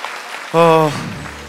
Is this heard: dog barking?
no